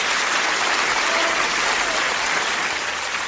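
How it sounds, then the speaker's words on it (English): Loud, dense applause fills the space after a correct game answer, a continuous wash of many hands clapping at once with no pauses. "A briefcase. Give yourself a round of applause,"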